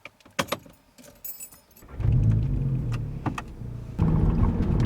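An Audi S3 8V car starting up, with a jangle of keys and a small click before the engine catches and settles into a steady, loud idle that rises again near the end.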